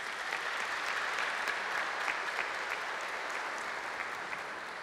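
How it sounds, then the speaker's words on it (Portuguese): A church congregation applauds at Mass, a soft, even wash of many hands clapping that holds steady for several seconds before tapering slightly, heard from a distance. "Uma salva de palmas."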